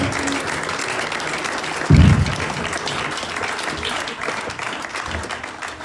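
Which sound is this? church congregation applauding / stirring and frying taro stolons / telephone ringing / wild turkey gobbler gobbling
church congregation applauding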